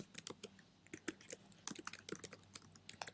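Quick, irregular keystrokes on a computer keyboard while an email is composed, close and fairly quiet, with small pauses between bursts of clicks and no voices.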